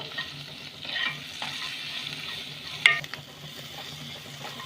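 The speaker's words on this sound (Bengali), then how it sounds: "মশলাগুলোকে এবার আমি একটু কষে নেব" Ground turmeric and coriander powder being stirred and fried in a pan over low gas heat for shahi paneer, a soft steady sizzle with occasional scraping stirs and one sharp clink, no voices.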